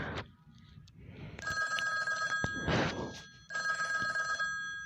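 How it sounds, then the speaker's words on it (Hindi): A custom name ringtone plays on a phone: bright, tonal ringing tones come in repeated bursts with short breaks between them, clear and close. "ये देखें दोस्तों, मेरी रिंगटोन बन चुकी है। तो आपको मैं प्ले करके दिखाता हूँ।"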